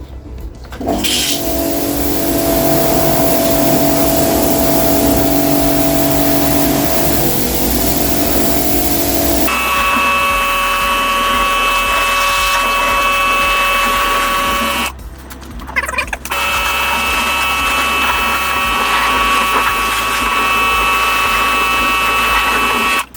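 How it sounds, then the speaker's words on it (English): A jet wash pressure washer sprays a dirty Kawasaki motorcycle found in a garage, getting its first wash in ten years, making a loud, sustained hiss and whine whose pitch shifts in stages as the motor cycles on and off. "Right, jet wash is out. Let's get this its first wash in 10 years."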